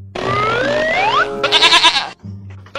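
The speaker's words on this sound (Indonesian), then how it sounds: "itu mah kambing" A goat bleats loudly and close by, a rising wavering call followed by a shorter quivering bleat, with a brief low sound trailing after.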